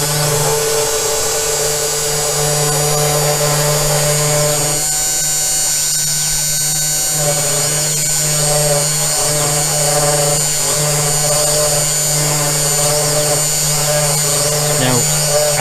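A Sainsmart Genmitsu CNC 4040 Pro spindle runs steadily with a loud, constant electric whine and hum, and its pitch shifts slightly partway through as the speed is raised.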